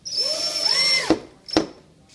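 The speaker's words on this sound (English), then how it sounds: "or a drill and a hand screwdriver, you're going to mount your bracket to the inside of the window jamb" A power drill drives screws to mount a roman shade bracket into a window jamb, a steady whirring run of about a second followed by two short bursts, close and alone.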